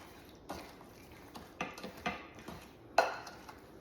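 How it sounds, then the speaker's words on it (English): Peach cobbler mixture with melted butter stirred in a dish, a series of irregular scrapes and clinks of a utensil against the dish, close but fairly quiet with a sharper knock near the end. "And then we're gonna stir it up."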